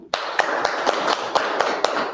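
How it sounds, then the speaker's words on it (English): A crowd applauds steadily, dense clapping filling the whole stretch with a few sharper claps standing out, fairly close and loud. "Let's give her a clap."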